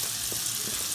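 Minced garlic and shallot frying in butter in a pan, giving a steady, even sizzle that holds close and constant throughout with no voices.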